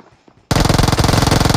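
Sustained rapid automatic gunfire in a video game bursts in loudly after a brief quiet start, a dense, evenly spaced rattle of shots that is close and fills the rest of the clip.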